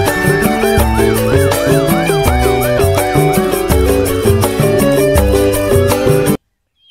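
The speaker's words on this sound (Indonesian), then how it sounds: "Mobil pemadam kebakaran." A loud, wailing electronic siren from a toy fire truck repeats over a busy synthesized toy tune with beeping notes, then cuts off abruptly into silence.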